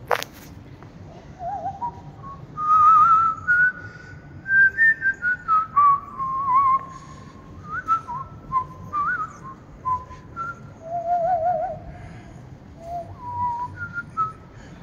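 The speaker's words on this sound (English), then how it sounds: "Sorry about the whistling." A person whistles a wandering melody outdoors while walking round Birmingham, clear and fairly loud with short pauses between phrases, echoing slightly, with faint background ambience.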